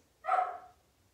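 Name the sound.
dogs barking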